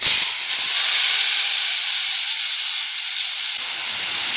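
A loud, steady hiss of ground spice paste hitting hot oil, sputtering continuously before easing slightly toward the end.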